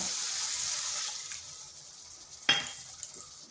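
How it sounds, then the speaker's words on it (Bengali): A little water poured into a hot pan of spiced bitter gourd and potato curry sets off a hissing sizzle that fades away, followed by a sharp clink of a utensil, all close up without speech. "এরপর এখানে দিয়ে দিচ্ছি সামান্য জল"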